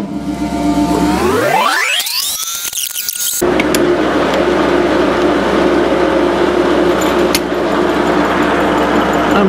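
A metal lathe winds up with a rising whine, then runs steadily just under 400 rpm at a 130 mm/min feed, a loud continuous mechanical drone.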